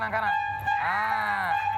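A honking horn sounds twice in quick succession, fairly loud and close, with a steady tonal blare and some background noise.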